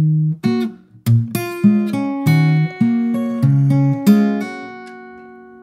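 Acoustic guitar plays the last section of a song at a slowed pace, plucked notes ringing one after another in a clear, close, unaccompanied phrase.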